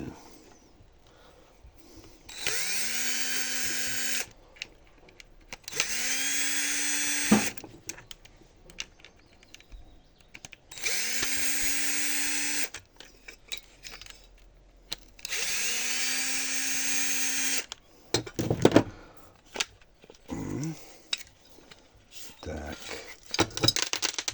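Power tool working on a rusted, seized angle grinder being taken apart for its copper, in four loud, roughly four-second whirring bursts separated by pauses, followed by sharp clanks and knocks of metal and hand tools.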